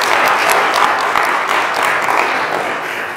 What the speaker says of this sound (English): Let's give a little preemptive applause.